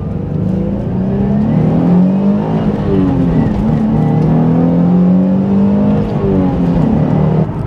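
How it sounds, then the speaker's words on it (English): A 2003 Nissan 350Z Track Edition with a manual gearbox and naturally aspirated engine revs hard from inside the cabin, its loud steady drone climbing and falling through repeated pulls that end at the rev limiter. "I think I hit the rev limiter there."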